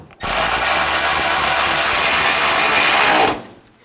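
A power drill spins continuously for about three seconds, snugging down screws on the AC liquid line of a 2006-2010 Hummer H3 3.7L, loud and close with abrupt start and stop.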